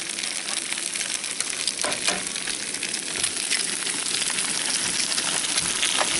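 Eggs sizzle and fry steadily in a pot over a hash scramble, a continuous bright crackle with occasional stirring, close and alone without talk.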